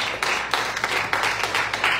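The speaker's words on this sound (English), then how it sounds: "give clap offering to the Lord" A church congregation clapping during a Sunday service, a close, rhythmic run of hand claps in a steady beat of about four per second.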